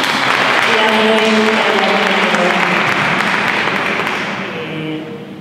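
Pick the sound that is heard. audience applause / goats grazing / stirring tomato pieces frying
audience applause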